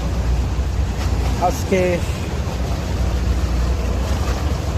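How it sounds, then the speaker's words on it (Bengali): A motorboat travels across water with a continuous low engine rumble and wind noise, and a voice speaks briefly over it. "দেখেন আমাদের বোট চলতেছে"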